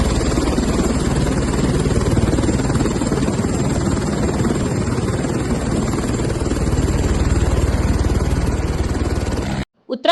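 A helicopter runs at a helipad in Uttarakhand as sick passengers are loaded aboard, producing a loud, continuous droning rotor and engine roar close by that cuts off abruptly near the end.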